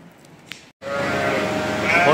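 A Kangal sheep bleats loudly and close by in a sustained wavering cry, following a brief quiet moment with faint background noise.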